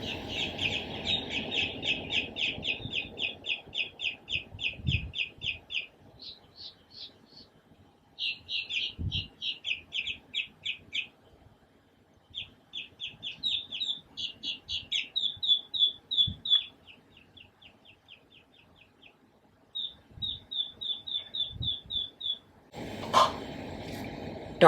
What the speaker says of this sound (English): And then the worst bit are these dang birds.